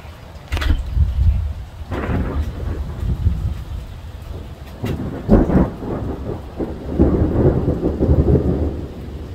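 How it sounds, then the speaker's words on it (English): Thunder rumbles low and heavy through a tornado-warning storm, several rolling peals rising and fading across the stretch over a steady wash of rain, loud and near with no voices. "Lots of thunder, so we're going to stay under the roof here."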